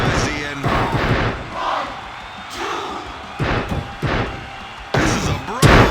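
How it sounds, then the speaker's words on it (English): A rowdy wrestling crowd roars through a brawl in recurring loud surges, with impacts and commentators' voices mixed in. "Listen to this crowd."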